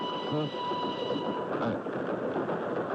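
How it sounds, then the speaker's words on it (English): Radio drama sound effect of a train running on rails, a steady loud rolling rumble with a brief whistle-like tone early on, continuous throughout. "Why am I on this train with you?"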